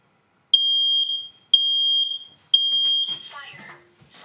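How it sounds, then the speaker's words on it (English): A household smoke alarm in a separate room sounds three loud, piercing beeps about a second apart, each ringing for nearly half a second, before a voice begins speaking. "The CO Smoke Listener did not pick up the alarm that was going off about 5-6 feet away."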